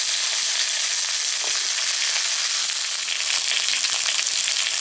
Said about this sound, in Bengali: খামালুর সঙ্গে আমি সজনে ডাঁটাও হালকা একটু ভেজে নেব।